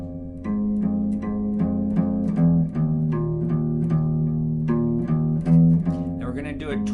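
Guitar plucking the opening riff of a song in a steady repeating pattern of single notes with low sustained tones, close and clear, with no voice over it.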